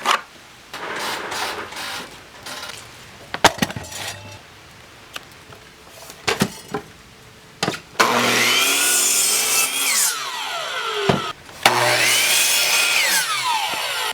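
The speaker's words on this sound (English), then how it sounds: "we're going to cut these boards down now" Wooden boards cut to length with a power saw for a backyard project, first short bursts and handling knocks, then a loud sustained whining cut that rises and falls through two long passes, no talking.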